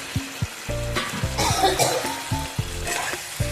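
Fish pieces for chilli fish fry in a hot pan with a sustained crackling sizzle, broken by bursts of louder spitting as they are stirred, while a low tonal hum pulses repeatedly underneath.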